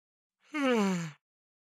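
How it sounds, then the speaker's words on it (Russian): A single close, breathy human yawn lasting under a second, its voiced pitch sliding slowly downward before stopping, surrounded by silence. "Что-то зеваю сегодня прям."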